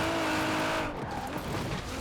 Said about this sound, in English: It's spinning all four wheels on race tires.